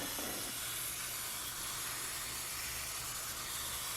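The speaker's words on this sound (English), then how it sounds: "That's my little pump spray." A small hand pump spray bottle mists water onto an Erodium plant in a Wardian case terrarium, giving a steady, close hiss that runs continuously without pauses.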